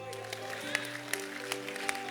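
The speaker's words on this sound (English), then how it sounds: "Can you clap your hands?" Steady rhythmic hand claps from a congregation at a live church service, landing in time over sustained music and voices.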